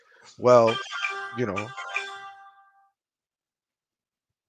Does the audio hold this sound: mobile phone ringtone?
yes